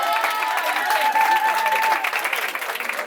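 Family members applaud at a Gabonese customary wedding, with sustained, dense clapping from a crowd nearby and a faint voice underneath.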